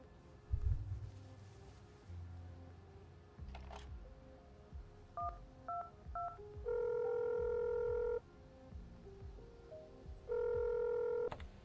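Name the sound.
mobile phone being dialed in a video game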